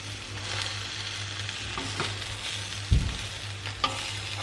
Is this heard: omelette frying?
yes